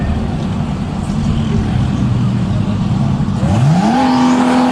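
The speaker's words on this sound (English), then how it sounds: "Blankenship off the start line first in the orange GTR, and Dat Lee trying to give chase right-hand side." GTR Unlimited drag race cars at a DCT World Cup event launch off the start line, a loud sustained engine roar that climbs sharply in pitch as they accelerate away.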